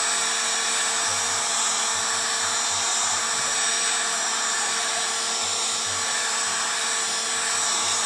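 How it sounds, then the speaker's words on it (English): A heat gun runs on its low setting to warm and loosen the weather-seal molding on a car tail lamp. It gives a loud, steady, unbroken blowing whir from start to finish, with no talking. "I'm just using a heat gun here on low"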